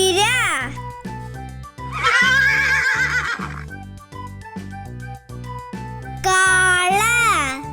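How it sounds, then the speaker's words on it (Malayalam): A horse neighs in two loud, shaking whinnies, one near the start and another toward the end, with a shorter call at the very beginning, all set over a bouncy backing tune. "കുതിര"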